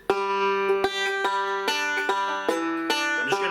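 A bluegrass banjo picks a quick melodic fill from Wildwood Flower, bright plucked notes ringing over a steady roll with sharp attacks roughly every half second, close and clear.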